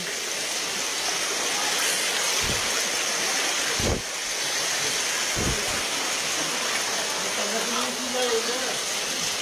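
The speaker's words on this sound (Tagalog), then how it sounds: "Kitang-kita nyo. Ito yung ilog." Steady, loud rushing floodwater in a river fills the scene with a continuous roar, a few low thumps breaking through now and then.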